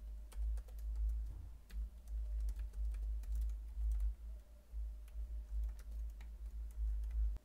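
Rapid, irregular clicks of someone typing on a computer keyboard, close and fairly quiet, with short bursts of keystrokes and brief pauses, and no voices.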